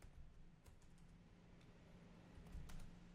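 Typing on a computer keyboard: a faint, irregular patter of soft key clicks, quiet and close, with a slightly busier burst of keystrokes toward the end and no talking.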